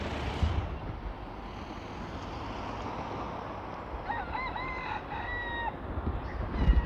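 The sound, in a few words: rooster crowing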